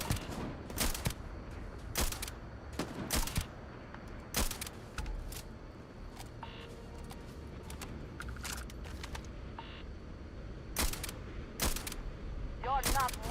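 Enemy gunfire in the sci-fi game Starfield, played in survival mode: bursts of sharp shots come in clusters, some close and loud, others scattered, over a steady mechanical background.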